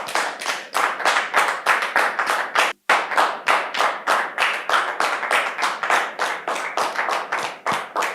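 Studio audience applauding to welcome a guest onto a French talk show, dense steady clapping from many hands with one brief break near the start, loud and continuous throughout.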